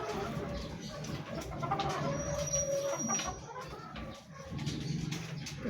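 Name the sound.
white kelso chickens clucking in a backyard coop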